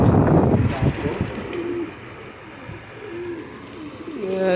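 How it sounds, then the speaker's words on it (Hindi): Teddy pigeons coo close by in short, soft, throaty calls, a few repeated phrases rising over a busy background of other birds and room noise. "चीना टेडी कबूतर।"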